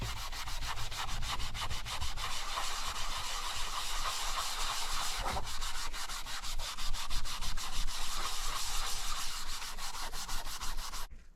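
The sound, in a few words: 3M pad scrubbing lacquer off a leather Brooks bike saddle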